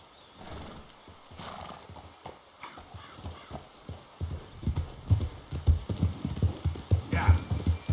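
Hooves of a horse in Red Dead Redemption 2 clip-clop in a quickening rhythm, growing louder and closer, with a faint neigh and background game ambience.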